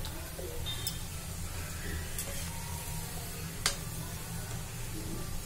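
Ponnaganti leaf pakodi frying in hot oil, a steady soft sizzle with low bubbling throughout and a couple of faint clinks from stirring, no voices.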